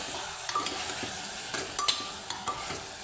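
Spice powders, cumin and coriander, are stirred in a sizzling frying pan, with a steady fry hiss and scattered scraping taps of a spoon against the pan, close and moderately loud.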